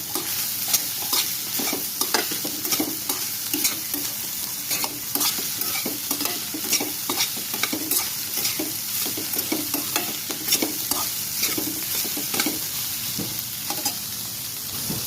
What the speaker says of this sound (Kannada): ಚೆನ್ನಾಗಿ ಒಂದು ಸ್ವಲ್ಪ ಹೊತ್ತು ಒಂದು ಐದು ನಿಮಿಷ ಹುರ್ಕೊಂಡ್ರೆ ಸಾಕಿದು